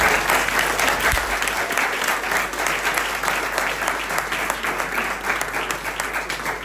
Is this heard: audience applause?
yes